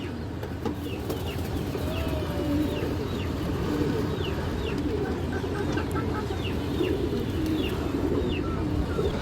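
Several pigeons coo in a loft near a pair of Afsan Bagaish pigeons, a continuous low burbling broken by scattered sharp chirps and clucks from other birds, with no talking.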